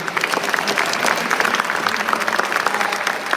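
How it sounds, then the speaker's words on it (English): An audience applauds a college leader at an inauguration event, a continuous, dense clatter of many hands clapping, loud and close with slight surges, and no speech over it. "why don't we give a big round of applause to this wonderful leader"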